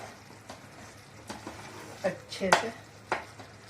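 Jaggery melting in a kadhai over a low flame, with soft stirring scrapes and clinks of a spoon against the pan over faint sizzling, while someone talks.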